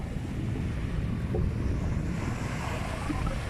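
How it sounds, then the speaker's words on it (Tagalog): Ocean surf at Cagliliog Beach, Tinambac, Camarines Sur, Philippines, still strong from a recent typhoon, rolls in as a continuous, rushing roar, mixed with gusting wind buffeting the microphone. "Hindi malakas ang alon dahil sa dala pa ng bagyong nakaraan"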